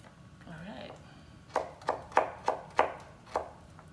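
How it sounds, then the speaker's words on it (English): A knife chops radishes into half moons on a cutting board, about six crisp, evenly spaced thuds near at hand over a low room hum; a voice is heard briefly just before. "You might have to cut them in half and do little half moons."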